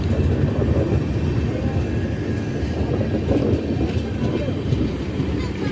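Kirandul Express pulling out of Araku Valley station, a loud, steady rumble of rolling wheels and carriages that fills the whole stretch without letup.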